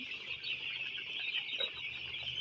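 Eight-day-old broiler chicks in a poultry shed keep up a dense, continuous chorus of high peeping chirps, a steady flock sound at moderate distance and fairly quiet overall.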